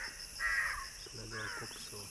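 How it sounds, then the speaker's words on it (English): Crows caw in a few harsh, hoarse calls, one loud burst followed by a second softer series, heard outdoors at moderate distance under a faint background hum with low voices murmuring. "Jatayu, we've got crows here"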